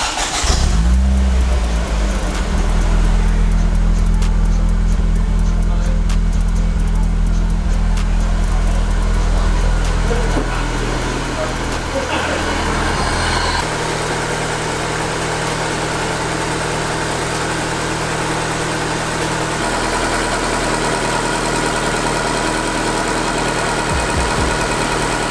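Cheap, recently repaired Ford Focus ST170 bought unseen, its engine cranking and catching, then a loud, close, steady idle with a deep droning rumble and slight shifts in pitch, without any talk.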